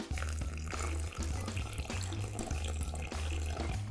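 Warm water, about 38 degrees, is poured steadily for yeast while making cornbread, a continuous close splashing stream with no talk.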